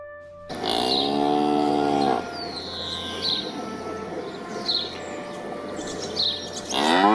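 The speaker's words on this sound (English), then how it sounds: "Cow. A large female animal kept to produce babies and milk." A cow gives a long, loud, close moo at the start, then birds chirp and call repeatedly over a steady outdoor background, and another moo begins at the very end.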